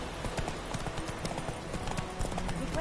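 Roach, the horse in The Witcher 3, gallops with rapid, steady hoofbeats that run throughout, close and fairly loud over a dense bed of game ambience.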